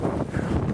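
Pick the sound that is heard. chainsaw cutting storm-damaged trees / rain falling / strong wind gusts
strong wind gusts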